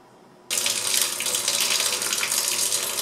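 A tap suddenly turns on and water gushes steadily onto a soap tissue sheet, a loud continuous splashing stream after a brief quiet start.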